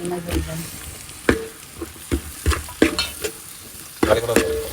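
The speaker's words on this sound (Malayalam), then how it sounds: "സവാള വരട്ടണം ഇനി ആവശ്യത്തിന്" Onions sautéing and being stirred in a pan, with a soft sizzle under repeated scraping and clanking spoon strokes at irregular intervals, close by.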